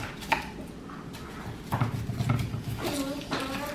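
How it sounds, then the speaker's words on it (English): A kitchen knife chopping an onion on a cutting board while cooking with garlic and olive oil, a few separate knocking cuts spaced apart, set among light kitchen clatter and someone speaking. "Now I'm gonna cut this onion."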